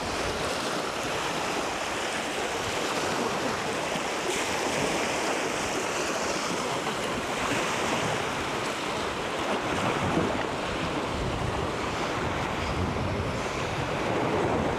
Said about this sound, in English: to get a little more up close and personal with the sea